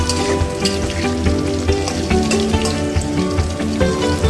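Vegetables for veg kuska deep frying in hot oil give a close, steady sizzle, with crackles and pops bursting through it continuously and no voices.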